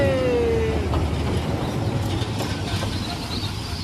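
Hitachi locomotive, number 4522, on the State Railway of Thailand in Bangkok, a loud continuous rumble of a train passing close by, with a brief high horn-like tone at the start.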